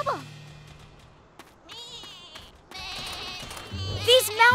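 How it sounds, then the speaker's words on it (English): Cartoon mountain goats bleating in wavering, nasal calls mixed with animated character voices and music, several bleats overlapping near the end. "These mountain goats won't stop following me!"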